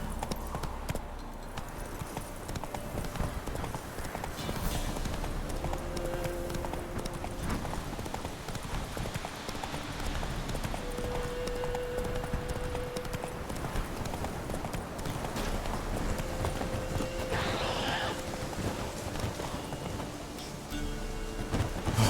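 A horse in The Witcher 3 gallops in a fast, steady clip-clop of hooves that runs throughout, with light rain pattering behind it and faint game sounds.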